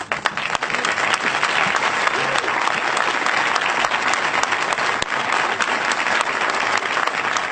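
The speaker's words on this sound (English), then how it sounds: "That is Jared Kushner saying to great applause" Audience applause following Jared Kushner's speech at the U.S. Embassy move to Jerusalem, a loud, sustained roar of many hands clapping with crowd noise mixed in throughout.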